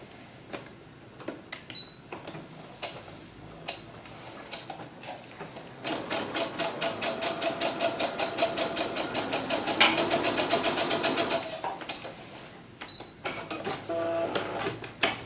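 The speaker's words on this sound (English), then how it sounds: "like you were really sewing this on your sewing machine" A sewing machine stitches a seam on a doll's ball gown in a fast, even burst for several seconds, preceded and followed by scattered clicks and handling noises.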